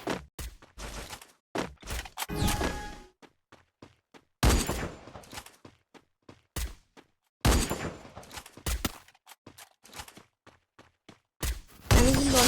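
Sharp bursts of gunfire from the Free Fire video game, a 1v1 match with headshots, come as scattered single shots and short clusters, loud against near silence between them.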